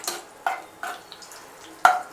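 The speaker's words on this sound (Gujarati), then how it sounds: "અને પ્રેમથી એને થોડું હલાવી દેવાનું" Butter stirred into a dish in a pan makes a few sharp metallic scrapes and clinks, spaced out over a couple of seconds against near silence.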